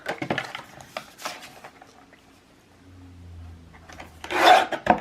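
Scissors cut through paper ephemera for a junk journal, giving a few dry rasping snips near the start and a louder crisp cut toward the end, with quiet handling and a low hum in between.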